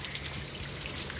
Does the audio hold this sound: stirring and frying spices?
no